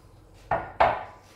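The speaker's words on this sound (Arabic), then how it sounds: "وغادي نخلط كلشي مزيان حتى تشرب هذيك الشعريه هذيك لاصوص اللي حضرناه" Two sharp utensil knocks against a bowl while vermicelli, fish and sauce are mixed for a Moroccan briouat filling, close and distinct, with quiet in between and no talking.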